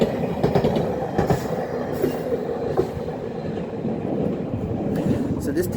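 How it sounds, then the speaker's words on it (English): A train passes close by in Japan, a loud steady rumble with rail clatter and some squealing wheels running throughout. "Oh, the train is coming."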